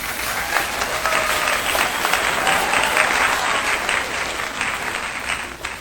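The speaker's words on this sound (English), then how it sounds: "please, please, please do hold your applause" Steady audience applause with some crowd noise fills the whole stretch at an even, fairly loud level, with no talking over it.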